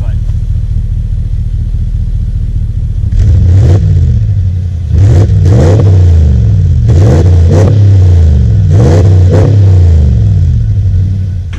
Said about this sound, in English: let's go ahead and rev a little, do a little pull to see what that bad boy sounds like